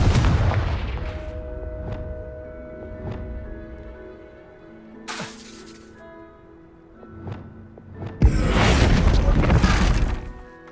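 Confringo fire spell in Hogwarts Legacy gameplay: sharp magical cracks and booming blasts with shattering impacts, a loud burst of explosive noise near the end, set over a soft ambient game score.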